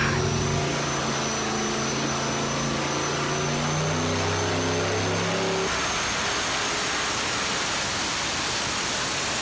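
A modified 4.8 liter V8 fitted with a Brian Tooley Racing Stage 2 turbo cam roars loudly on a dyno, holding a steady high-rev pull before cutting off abruptly, leaving a wash of broadband fan and room noise.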